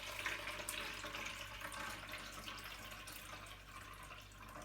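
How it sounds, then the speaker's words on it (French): Lukewarm water, about 40 cl, pours steadily into a bowl for homemade bread, a continuous close splashing stream lasting several seconds with no talking. "j'ai fait tiédir, attention, juste tiédir, hein, pas trop chaud, 40 centilitres d'eau que je vais verser dans ce récipient"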